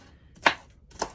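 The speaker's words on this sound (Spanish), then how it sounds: "We're gonna slice the pepper." A knife cuts through a pepper on a cutting board in two quick, crisp chops about half a second apart, close up and clear, with no one speaking.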